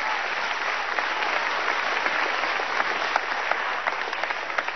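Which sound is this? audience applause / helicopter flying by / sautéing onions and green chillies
audience applause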